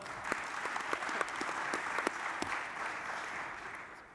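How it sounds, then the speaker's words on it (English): A conference audience at a Future Investment Initiative golf panel claps for several seconds, a dense, even spread of applause with a few sharper claps standing out, then easing toward the end. "Please give a round of applause to Camilla Lenarth."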